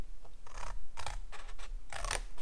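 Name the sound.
scissors cutting scrapbooking paper tabs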